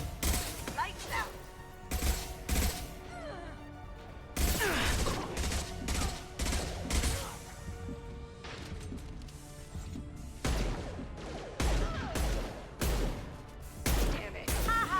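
Gunfire in a firefight in the video game Mass Effect 2: rapid bursts of shots and impacts in irregular clusters throughout, loud and close, with brief gaps between volleys.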